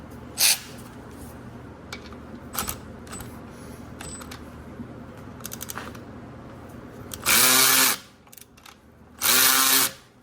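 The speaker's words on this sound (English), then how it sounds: "I'm gonna try my ratchet first, see if I can get that open." Ratchet and power tool work on a 13mm rear brake caliper bolt of a BMW X3, with scattered clicks and clanks and two loud bursts of a driver whirring, each about a second long, close by.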